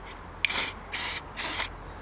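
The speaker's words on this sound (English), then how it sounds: "So I just used sanding pad." A sanding pad is rubbed across a car panel in three short, even strokes. The scratchy sound is close and heard on its own.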